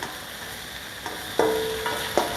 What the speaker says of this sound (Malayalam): നന്നായിട്ട് ഇളക്കി യോജിപ്പിച്ച് നമുക്ക് ഇച്ചിരി നേരം